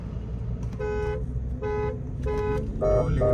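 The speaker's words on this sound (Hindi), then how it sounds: "मैं हॉर्न मार दूंगा 30 पे।" A car horn honks in four short blasts, evenly spaced, over the low rumble of an idling engine nearby.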